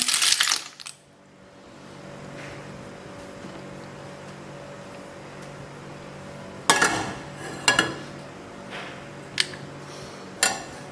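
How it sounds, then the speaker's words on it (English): Clams tumble into a pan of Naples-style spaghetti in clam sauce, giving a few sharp clinks and clatters spaced apart over a low steady kitchen hum, with an earlier burst of rattling at the start. "Now we're going to add the clam."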